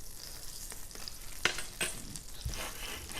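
Butter melting in a pan for an omelet gives off a soft, steady sizzle with a few brief crackles and pops, fairly quiet and close, with no talking.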